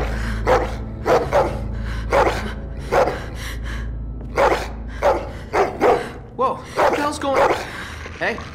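Rosie, a dog in the video game The Walking Dead, gives a series of sharp barks and yips in irregular bursts, fairly close, with a few whimpering gasps between them.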